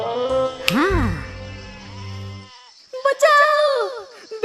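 Sheep bleating in an animated Hindi moral story, two wavering cartoon bleats, loud and close, one at the start and another after a short gap.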